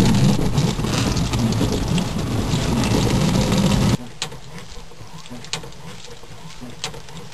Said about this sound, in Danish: Regnen piskede.